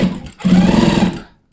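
Sewing machine running in a short steady burst while stitching button tape onto a kameez front placket, preceded by a brief start, then stopping; close and fairly loud, no talk.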